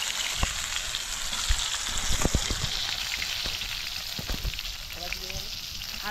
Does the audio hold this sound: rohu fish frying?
yes